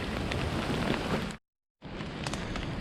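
Heavy rain pours outdoors in a thick, even roar that stays loud and close throughout. It cuts to a short, complete silence midway, then resumes at the same intensity. No voices are heard.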